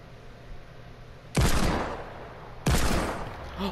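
Two loud sniper rifle shots in a video game, each a sharp crack followed by a long rolling echo, spaced over a second apart with no talking.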